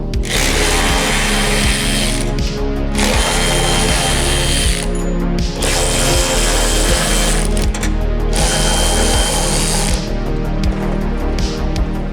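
Ratchet wrench clicking in rapid bursts while loosening the trunk lid bolts on a $500 Subaru being turned into an STI tribute, loud and close, with brief pauses between runs and no talk.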